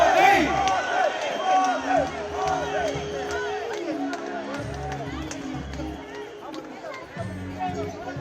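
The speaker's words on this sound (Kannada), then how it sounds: "ಜೋರಾದ ಚಪ್ಪಾಳೆ." A large crowd at a Narendra Modi public event in Bengaluru cheers, shouts and applauds continuously, a dense roar of voices and clapping with surges and chanting throughout.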